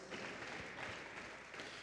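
Applause from a congregation during a church service, a steady mid-level wash of clapping hands filling the room without pause, with faint voices mixed in.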